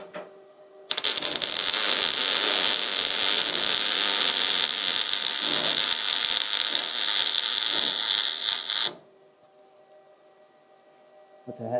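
A welder runs a stitch weld across a wide gap: a loud, steady crackling buzz of the arc burns for about eight seconds, then cuts off abruptly, leaving quiet room hum.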